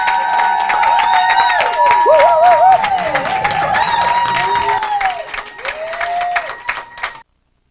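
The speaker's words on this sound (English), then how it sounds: "let's give a big round of applause to today's diamond sponsor, none other than G. Glenn Garns." Business event audience applauds the diamond sponsor: crisp rapid clapping mixed with cheering voices and tonal whoops, loud and sustained for about seven seconds before cutting off abruptly.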